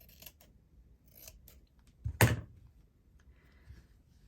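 Scissors trim silver fabric in a quiet room. A single crisp snip sounds clearly near the middle, with a few faint handling rustles before and after.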